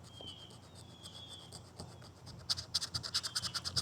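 Cracked plastic car interior trim being roughed up for a fiberglass repair, a quiet, steady scratching and rubbing that turns into a run of rapid, rhythmic rasping strokes near the end, close and with no talk.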